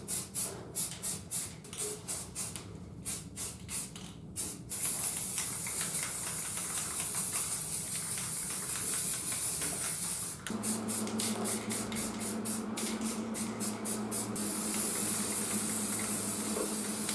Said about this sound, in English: I'm going to use some rust reformer on like the center section and the ends down here